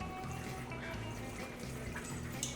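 Cocktail double-strained through a strainer into a glass, a steady liquid pour with faint splashing and light trickling, continuous throughout at moderate level.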